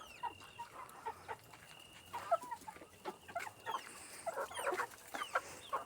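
Several hens and broilers cluck and squawk in irregular bursts close by at dusk, with faint chirps from other birds in the background.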